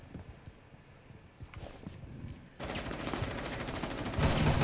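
Gunfire in Rainbow Six Siege, a headshot-only practice mode: a few sparse, muffled shots, then from mid-clip a dense, loud sustained burst of automatic fire that grows heavier toward the end.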